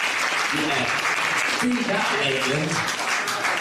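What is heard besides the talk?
round of applause at awards ceremony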